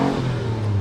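A Lamborghini Countach engine revs hard, flat out, during an acceleration run, a loud, steady, high mechanical roar with rising pitch that fills the whole moment without any voices.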